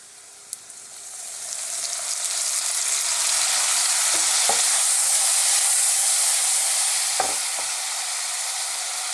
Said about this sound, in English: And now we're going to add a little bit of soy sauce.